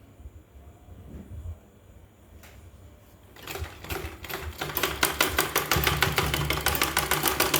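A sewing machine stitches a blouse seam, starting with scattered quiet clicks and then running into a fast, even rapid-fire rattle that grows louder and steadier; no speech.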